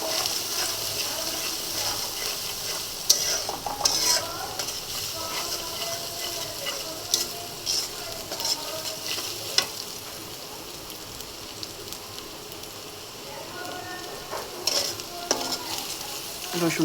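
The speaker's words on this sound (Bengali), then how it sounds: "রসুনটা ভালো করে ভেজে নিব" Garlic paste frying in a pan for a banana-flower dish, a continuous close sizzle with frequent scraping stir strokes and occasional clinks, steady and moderately loud throughout.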